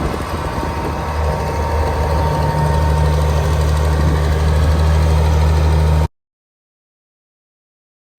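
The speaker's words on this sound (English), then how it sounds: "as we were leaving, we finally got to see the blowers in action" An opal mining blower machine running at Coober Pedy gives a loud, steady engine drone with a deep low hum for about six seconds, then cuts to silence.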